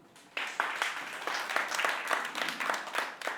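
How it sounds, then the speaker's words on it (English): Workshop audience applauding at a strategic brand design workshop. Dense, steady clapping starts abruptly after a quiet moment and continues at moderate volume to the end. "Big hand clap for Paul."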